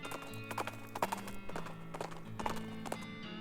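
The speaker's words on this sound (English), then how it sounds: "You and your horse carefully tiptoe across the log." Horse hooves clip-clop in a slow, uneven rhythm as a rider and mount tiptoe across a log in the video game West of Loathing, a handful of distinct steps over a steady game music bed.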